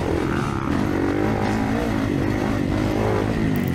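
A KTM two-stroke dirt bike engine racing in a motocross event, loud and close, its buzzing revs rising and falling continuously with other bikes droning alongside.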